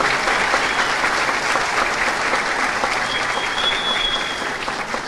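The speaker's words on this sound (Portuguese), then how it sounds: "Aqui eu peço uma salva de palmas." Audience applause at a Manaus city hall event marking sponsorship deals with local football clubs, dense and sustained for several seconds, easing slightly toward the end, with no talk over it.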